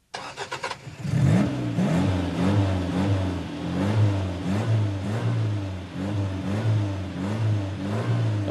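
A car engine cranks with a quick stutter, catches, and then revs repeatedly, each surge rising and falling in pitch, loud and close with no talk over it.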